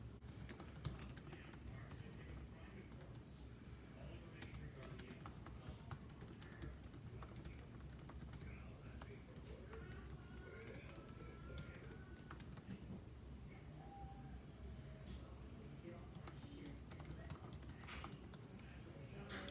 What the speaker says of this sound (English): So I'm gonna type just like one more sentence